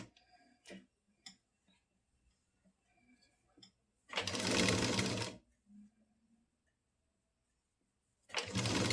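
A sewing machine stitches pleats on a nighty, running in two loud, buzzing bursts of about a second each, with quiet clicks and handling noises in the pauses.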